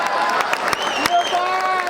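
An audience at a live comedy show claps and cheers in a dense, steady wash of applause, with sharp individual claps and a whistle rising above the crowd.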